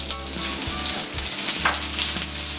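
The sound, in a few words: onion frying with garlic in oil in a pan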